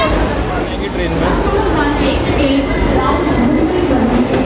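Loud, steady rumble inside the Garib Rath Express at Dadar station in Mumbai, with continuous carriage noise and a faint babble of passengers underneath.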